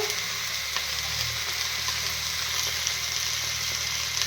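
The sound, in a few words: curry frying and being sautéed in a pan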